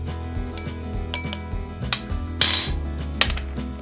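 A teaspoon of sugar goes into a mojito glass with bright metal-on-glass clinks and scrapes, close and scattered over a few seconds, with steady background music underneath.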